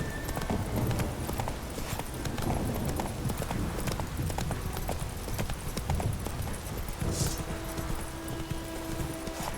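Galloping hoofbeats of Roach the horse in The Witcher 3, a fast, dense clip-clop rolling steadily and close, with a brief bright swish near the end.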